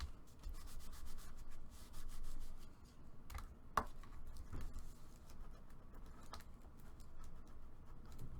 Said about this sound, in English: Now I can burnish.